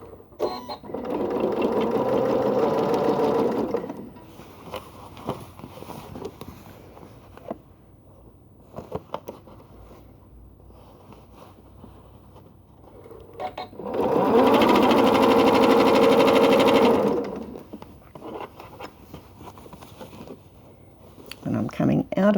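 A sewing machine runs in two long, steady bursts while stitching a tote bag made from quilted squares, loud and close, with a quieter stretch and some talking between the runs.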